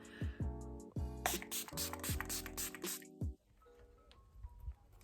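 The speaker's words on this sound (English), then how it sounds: "Glow spray, because it basically just prepares my skin for a heck load of highlighter" A single hissing burst from a bottle of makeup glow spray lasts about two seconds over soft background music.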